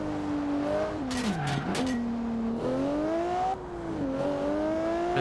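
A high-revving V12 quad-turbo race car engine in Forza Horizon 2 swoops down and back up in pitch through a corner, with bursts of tire squeal and repeated gear shifts, loud and close.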